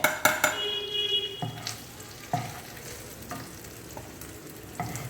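Chili powder and turmeric fry in oil in the pan used for salted fish, and a spoon stirs them, giving a soft sizzle with clanks and scrapes against the pan, loudest at the start.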